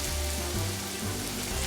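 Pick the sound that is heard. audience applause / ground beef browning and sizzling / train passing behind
ground beef browning and sizzling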